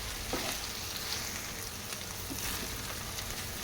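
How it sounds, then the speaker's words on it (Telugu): Chopped okra fries in oil for a Telangana-style tamarind stew. A dense, even crackling sizzle like light rain fills the clip, with faint stirring touches. "బెండకాయ ముక్కను వేసేసుకొని ఇలా ఫ్రై చేసుకోవాలి"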